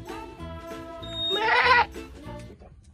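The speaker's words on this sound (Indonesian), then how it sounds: "Wah, dan yang ini ada seekor domba." A toy sheep gives a bleat, a single wavering, nasal cry rising loud in the middle over a steady electronic music background.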